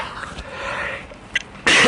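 A single hoarse cough bursts out at the end from a man with a sore throat, preceded by a brief throat-clearing catch, close and loud against a quiet room.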